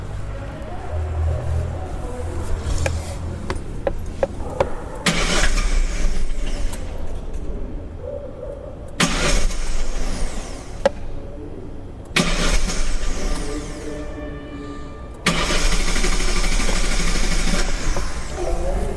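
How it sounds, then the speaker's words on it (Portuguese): Car engine cranking in repeated bursts during an automatic diagnostic start test, each crank a loud broadband roar of several seconds separated by quieter gaps, the engine trying to catch near the end. "Eu vou dar partida e segurar por 6 segundos."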